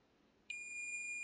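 A sudden, steady high-pitched multimeter continuity beep starts after a brief quiet moment and holds continuously, loud and close, with no talking.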